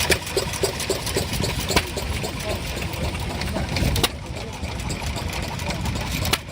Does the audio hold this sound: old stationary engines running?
yes